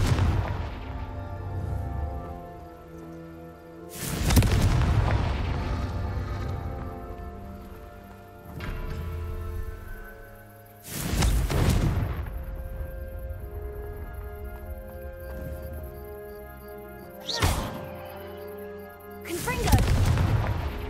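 Confringo fire-blast spells going off in the video game Hogwarts Legacy: five heavy booming explosions at uneven intervals, loud and close, each with a long fading tail over a steady musical background.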